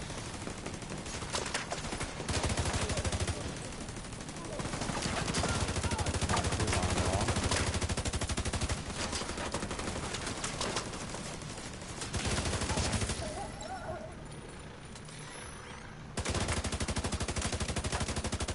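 Dense, continuous automatic gunfire in The Division 2, loud bursts of rapid shots that keep going with only brief pauses, mixed with game effects.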